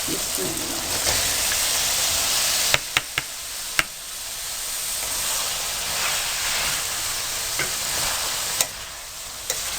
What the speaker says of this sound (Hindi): अब मैं इसमें टिंडे शामिल कर रही हूँ।